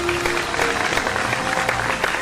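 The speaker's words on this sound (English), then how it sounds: "Give them a big round of applause." Live audience applause for performers at a televised vocal competition show, steady dense clapping with a faint tone underneath.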